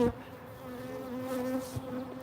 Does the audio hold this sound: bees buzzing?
yes